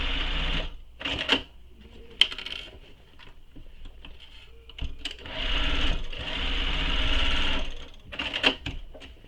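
A sewing machine stitches over the trimmed seam allowance of a handbag in stop-start bursts, quieter at first and then a longer, steadier run, with small clicks and taps in between.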